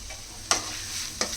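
A spoon stirring chicken keema fried rice mixture in a pan, a faint steady sizzle broken by two short scraping strokes about a second apart.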